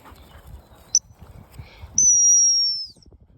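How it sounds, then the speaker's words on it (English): A dog training whistle gives a quick short peep, then one sharp sustained blast lasting nearly a second, close and clear over faint outdoor background. "But I want him to get used to just the whistle."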